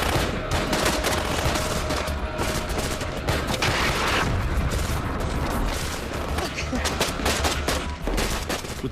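Sustained automatic gunfire returned from a vehicle during a simulated attack ambush, a dense, continuous fusillade of rapid shots that stays loud throughout, with a voice faintly audible beneath.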